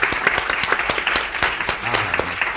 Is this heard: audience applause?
yes